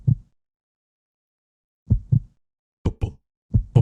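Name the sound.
heartbeat sound in Resident Evil Code Veronica video game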